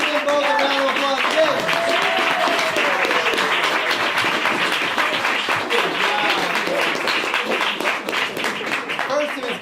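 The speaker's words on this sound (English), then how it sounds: "let's give them both a round of applause" Theatre audience applauding actors after a world premiere performance of a new play, loud continuous clapping from a crowd that stays full for about ten seconds and slowly eases off.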